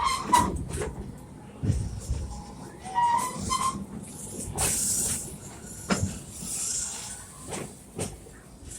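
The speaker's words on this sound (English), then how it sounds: "We are now pulling into the Stanleyville train station" A theme-park train hissing and clanking as it slows into Stanleyville station, with bursts of steam, squeals and a brief whistle, loud and uneven, no speech.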